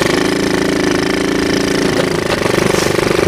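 A small 70cc Chinese ATV engine labors loudly and continuously as it climbs an off-road hill, a steady buzzing drone with rapid pulsing throughout and a slight dip in strain partway through.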